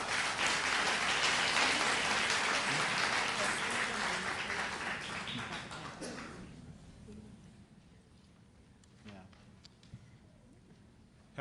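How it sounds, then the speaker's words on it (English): An audience at a board of education meeting applauds loudly with sustained, dense clapping that fades out after about six seconds, followed by quieter room sounds and scattered noises. "Help me out again, please, with the clapping"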